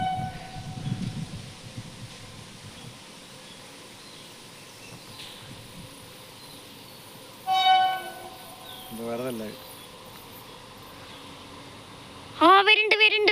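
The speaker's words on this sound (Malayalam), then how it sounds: "Mangalapuram Coimbatore intercity express." The Mangalore–Coimbatore Intercity Express passes, a quiet rumble building under birdsong, with short horn blasts midway and a loud horn at the close.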